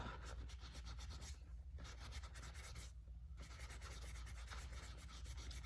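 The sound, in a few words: damp magic eraser rubbing Louis Vuitton canvas bag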